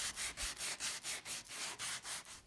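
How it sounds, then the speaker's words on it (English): Hand sanding a curve into the top corner of MDF panels: a steady rhythmic scratchy rubbing, about ten quick back-and-forth strokes, close and alone. "I then hand sanded a curve into the top corner of the panels"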